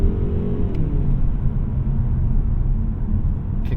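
A 2025 Mazda3 2.5T turbo engine with a 6-speed automatic kicks down for a passing run, giving a steady, loud low rumble heard from inside the cabin that hangs on for the whole stretch without letting up.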